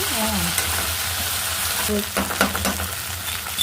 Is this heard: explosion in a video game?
no